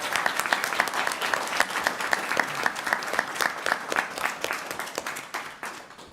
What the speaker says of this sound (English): Let's give everyone a big round of applause for a job well done.